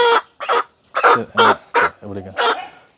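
A farm chicken in Jaffna clucks up close, about seven short, throaty clucks in an uneven rhythm with brief gaps between them, alone without talk.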